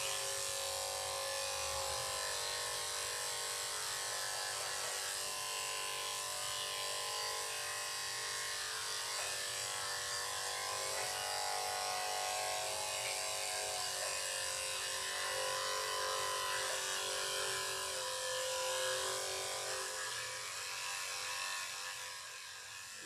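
Electric clippers buzz steadily while shaving a Havanese dog, a close, continuous, even hum with slight shifts in pitch as the blade moves, fading a little at the end.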